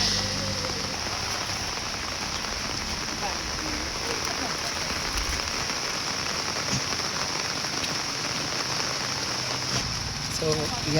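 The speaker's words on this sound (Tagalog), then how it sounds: "magkuha lang sila karon kay ulan man nga kusog karon" Heavy rain pours down steadily on roofs and ground, a dense, even hiss that runs unbroken throughout, with no voices.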